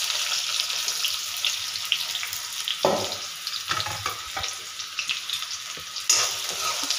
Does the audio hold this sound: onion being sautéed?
yes